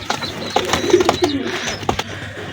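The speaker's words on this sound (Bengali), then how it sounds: "হাতে এক পেয়ার কামাগার কবুতর বাচ্চা দেখতে পাচ্ছেন" Kamagar pigeon chicks coo in soft, close, repeated low calls with brief rustles and handling noises between them.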